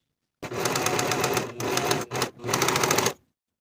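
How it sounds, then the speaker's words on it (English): A serger overlocks the straight top edge of a back bodice piece for a shirred dress, running in three close motor bursts with brief pauses between them and no talking. "Here is the topmost straight edge of my back bodice piece, and I'm going to serge to finish."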